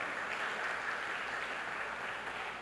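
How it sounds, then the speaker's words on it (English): At an Indian Arrival Day celebration, a crowd's applause comes across as a faint, steady, distant wash of clapping with no distinct individual claps and no talk over it. "Let's give her a round of applause."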